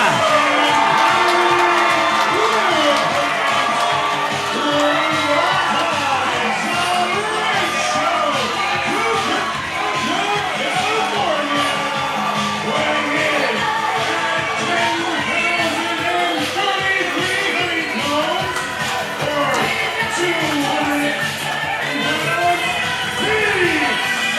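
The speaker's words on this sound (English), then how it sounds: "this capacity crowd here in West Langley Hall are starting to buzz for that man" Capacity crowd in West Langley Hall at an All Star wrestling show, loud sustained cheering with whoops, shouts and children's voices swelling and overlapping throughout, close and dense.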